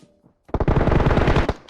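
A rapid burst of automatic gunfire in the PUBG Mobile shooter game, a tight string of shots lasting about a second after a brief quiet start, loud and close with no speech over it.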